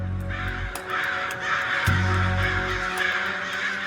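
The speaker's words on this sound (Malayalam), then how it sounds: "കാക്കകൾ വല്ലാതെ കരഞ്ഞു ബഹളം വയ്ക്കുന്നുണ്ട്" Loud, harsh cawing from several crows by a roadside near Chettikkad on Aryampavu Road, Palakkad, overlapping calls repeating almost continuously with steady background noise.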